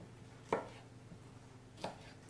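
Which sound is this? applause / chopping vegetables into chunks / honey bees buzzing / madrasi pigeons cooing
chopping vegetables into chunks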